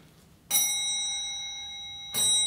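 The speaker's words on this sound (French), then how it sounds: "C'est une sonnette, là." A room call bell rings twice, each a sharp metallic ding with a long ringing decay, spaced about a second and a half apart in a quiet room.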